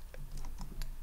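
Fast keystrokes on a computer keyboard while entering commands in a terminal, several quick irregular clicks at close range over a quiet room with faint background hum, and no one speaking.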